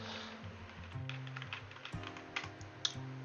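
Computer keyboard keys pressed repeatedly while steering a camera in the Unreal editor, a steady run of close clicks over a low background hum, with no talk.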